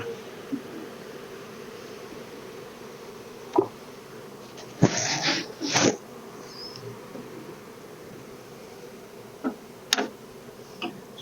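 Honeybees at a hive being worked with smoke give off a steady low buzzing drone, close and continuous, with occasional sharp ticks and clicks breaking through.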